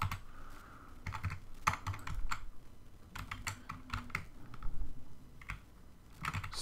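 Computer keyboard being typed on while someone plays Minecraft, with irregular bursts of clacking keystrokes and clicks that come close and clear, repeating in quick clusters over several seconds with no voice.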